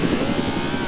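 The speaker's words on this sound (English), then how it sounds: "oh, a helicopter" A helicopter flies in a video game set in Rising City, its steady droning engine and rotor hum filling the moment at fairly close range, continuous and loud without any speech.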